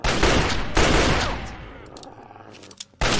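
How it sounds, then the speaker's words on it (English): Loud, close gunfire bursts from a Fallout 3 fight against mutants in a museum, heavy rapid shots that decay into a rumbling tail before another burst, with no talking. "Opening fire."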